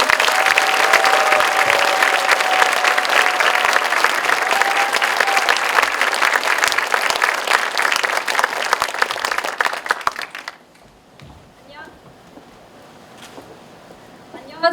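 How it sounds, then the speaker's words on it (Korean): An audience at an environmental seminar applauds warmly as activists are welcomed onto the stage, a dense sustained clapping that holds steady for about ten seconds before fading quickly into near silence. "큰 박수로 맞아주시기 바랍니다."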